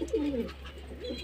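Pigeons coo softly and close by while feeding from a basin of rice in hot summer weather, a low warbling call followed by a second shorter coo.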